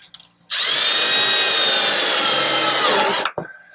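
A power drill drives a long bit into wood, a loud, near, steady whine with grinding friction for about three seconds before spinning down and stopping.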